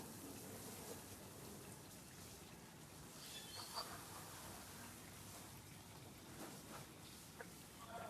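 Steady rain falling outside a house, a dense even hiss of drops on surfaces heard from indoors, fairly faint and continuous with no voices.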